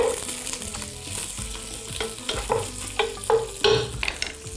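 Lamb tail fat melts in a hot pan with a steady, bright sizzle and crackle, broken by scraping and stirring strokes as the pieces are moved around, with no talk.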